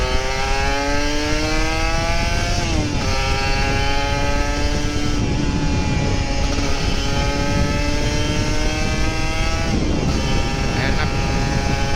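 A Kawasaki Ninja RR 150 motorcycle engine revs steadily on a morning ride, with rising and falling harmonic engine tones and a brief throttle change near the middle, loud and continuous throughout.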